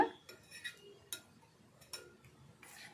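A spoon clinks and scrapes in a bowl as a spicy chili mixture is beaten until frothy: sharp, quiet metallic taps at irregular intervals, close by, with nothing else around them.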